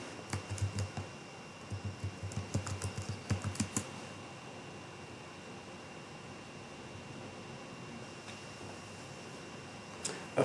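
Password typed on a computer keyboard, a short burst of close, quick key clicks for about four seconds, then a quiet hum with one faint click near the end.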